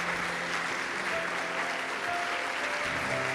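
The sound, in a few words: applause in church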